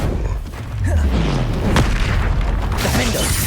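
A Confringo spell explodes in the Hogwarts Legacy video game as a loud, sustained booming blast amid dense combat noise, with no speech.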